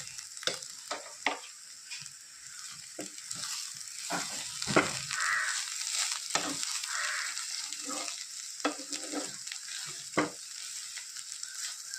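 A Kerala-style bitter gourd and egg stir-fry (pavakka mutta thoran) sizzles in a pan under a steady hiss, with repeated close spatula scrapes and taps as it is stirred, no talking.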